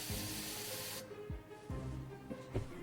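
A Paasche AB Turbo airbrush releases air in a loud, broad hiss for about a second, then drops away, leaving quieter low mechanical whirring and a few soft knocks close by.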